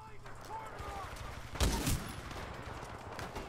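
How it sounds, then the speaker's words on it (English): A Kraber sniper rifle fires in Titanfall 2 gameplay, one loud sharp shot cracking out near the middle over a steady game background hum. "We're gonna try this sniper rifle out"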